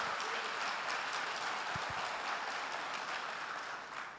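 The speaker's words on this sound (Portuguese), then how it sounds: "vamos aplaudir o Senhor" Church congregation applauding in a steady, dense wash of clapping that holds for the whole stretch and fades slightly at the end, with no voices over it.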